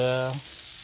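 Burgers frying on a Blackstone griddle give a close, steady sizzle, briefly overlapped at the start by the tail of a voice before the crackling continues alone.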